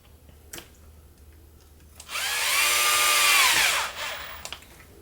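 Power driver with a large Phillips bit running down screws while assembling the lower frame of an RC EYE NovaX 350, one loud whirring burst of about two seconds that winds down, between faint clicks and handling noises.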